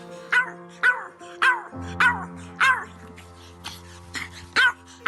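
Lilo, a small pet dog, lets out about eight sharp, high yaps in a quick, regular rhythm, close and clear over a steady tonal backdrop.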